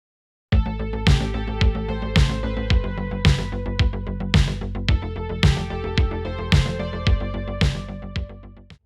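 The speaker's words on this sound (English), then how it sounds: "To create a 4 on the floor pattern, set your grid to quarter notes or 1/4, and then enter a note on every vertical grid line." A synthwave kick drum plays a steady four-on-the-floor pattern, one punchy beat on every quarter note, loud and alone for about eight seconds.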